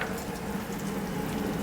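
Potatoes and par-cooked bacon sizzle in clarified butter in a pan, giving a continuous, moderately quiet crackling fry with no voices over it.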